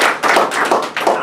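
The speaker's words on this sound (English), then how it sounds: "Give him a round of applause." Brief burst of clapping from a small gathered audience, a quick patter of hand claps lasting only a moment at moderate loudness with no talk over it.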